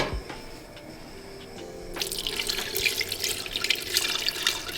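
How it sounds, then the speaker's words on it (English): Milk being poured little by little into a pan for a Southern-style baked mac and cheese sauce, a steady liquid pouring and splashing that starts up midway and continues, close and without talk. "we're gonna add in our milk little by little"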